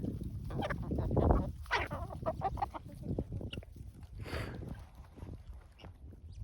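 Chickens clucking and cackling close by in a farmyard with chicks around, a busy overlapping stream of clucks, squawks and scratching at moderate loudness.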